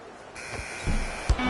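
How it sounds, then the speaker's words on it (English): An end-of-quarter buzzer at an NBA arena game between the Lakers and Spurs sounds as a sustained electronic tone over crowd noise, followed by a couple of low thumps. "Late heave to beat the buzzer. That ends the first quarter."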